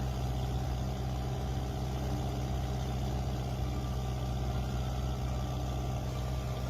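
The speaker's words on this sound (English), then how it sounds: "Because this is a tractor run." Ferguson tractors on a group tractor run give a steady, unbroken engine drone with a deep low rumble, heard continuously without any talk.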